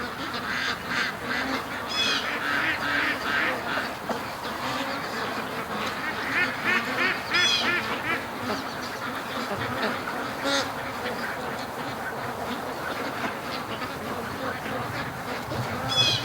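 Muscovy ducks and other ducks by a lake quack and honk in a loose, busy chorus, near and fairly loud, with occasional sharper calls standing out.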